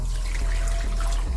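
Water poured steadily into a pan for plum chutney, a continuous close splashing rush with a low rumble, no talking.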